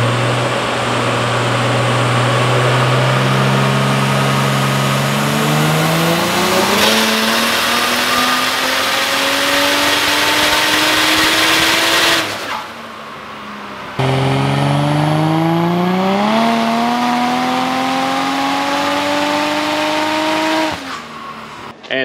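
A purple Nissan 180SX drift car with a 1.5JZ engine revs hard and close, its pitch climbing through long pulls with a brief drop between, then rising again in a second loud run.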